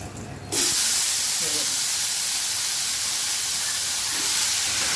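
Raw banana pieces hit a hot pan in a loud burst of steady frying hiss and sizzle that holds on evenly after a brief quieter start.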